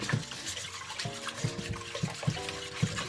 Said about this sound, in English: I'm gonna add in some tap water and hope for the best.